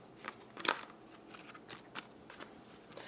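Tarot cards being shuffled by hand in a few quiet riffling and crackling bursts, with one sharper snap near the start, close up and faint, no talk.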